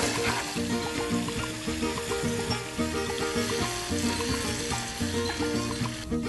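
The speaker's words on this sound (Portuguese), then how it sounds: "Depois de colocar o óleo na panela, vamos colocar a carne primeiro." Pork offal sizzling and frying in hot oil in a pan for a Brazilian-style stew, with steady loud crackling throughout and occasional stirring clatter.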